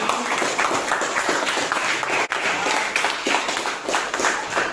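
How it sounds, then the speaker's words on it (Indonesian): Audience of teachers applauding a group after a mathematics teaching presentation in a classroom, loud continuous clapping from many people nearby, lasting almost five seconds with one brief dip. "kasih tepuk tangan ya untuk kelompok ini"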